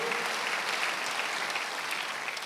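Worshippers at a Sunday church service clap together in a steady, dense burst of applause from a sizeable congregation, even in loudness and unbroken from start to finish.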